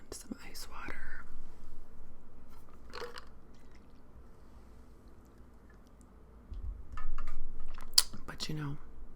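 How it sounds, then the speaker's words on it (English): Soft, wet chewing and smacking of Bubble Club Classic bubble gum up close, with quiet whispering at times and a few sticky clicks. "Let's just do a little soft-spoken gum chewing"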